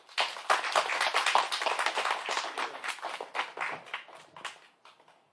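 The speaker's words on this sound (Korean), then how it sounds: "우리 사모님도 위에서 박수로 환영하겠습니다" A church congregation claps to welcome a pastor, a burst of sharp individual handclaps that starts strong and thins out toward the end, with no talking.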